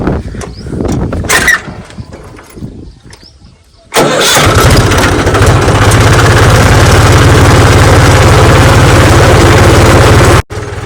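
A mini power tiller engine cranks in a few uneven bursts, then catches and settles into a loud, steady, close rumbling run that holds until it cuts off abruptly near the end.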